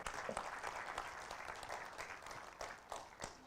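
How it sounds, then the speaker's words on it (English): At an interior design awards ceremony, an audience applauds itself with brisk, fairly quiet clapping that carries on steadily for a few seconds, with a few sharper individual claps standing out. "clap for yourself"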